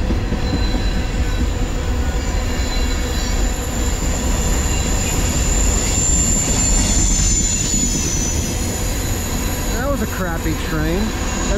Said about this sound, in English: I waited like 20 minutes for this train.